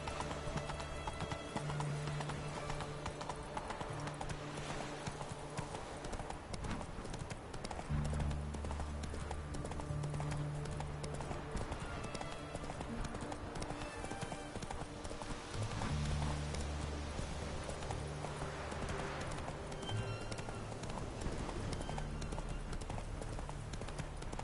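Hooves of Roach, the horse from The Witcher 3, clip-clop in a steady galloping rhythm throughout, fairly quiet, with brief low snorting touches.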